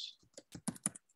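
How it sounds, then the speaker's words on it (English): A brief, quiet run of computer keyboard keystrokes, five or six soft separate clicks in quick succession with no voices. "let me type it in."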